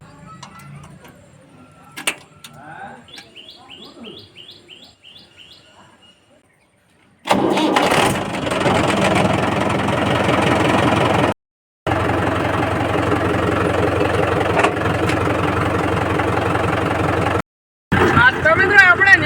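A tractor engine cranks and catches, then settles into a loud, steady idle heard up close, with a couple of short cutouts; before it starts there are quieter handling sounds and a brief bit of voice.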